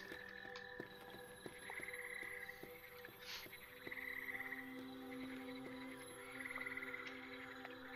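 Frogs croak in the video game Europa, with faint, repeated bursts of croaking that rise and fall over a quiet ambient background.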